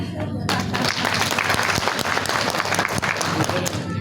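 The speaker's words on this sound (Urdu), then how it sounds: "ایسی جگہ پہ بھرپور تالیاں چاہیے" An audience at a women's empowerment event breaks into full, loud applause that starts abruptly and keeps up densely through the clip, with some crowd voices mixed in.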